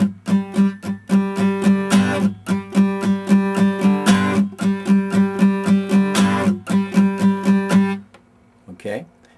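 Rhythmic guitar strumming with left-hand muting on the first beat of each bar, steady funk-style chords with short choked percussive hits recurring for about eight seconds, then a brief trailing strum.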